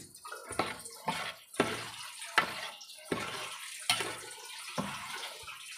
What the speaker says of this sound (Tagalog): Yan, maglagay tayo ng water.